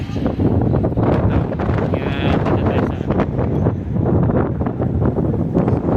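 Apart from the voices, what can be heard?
strong wind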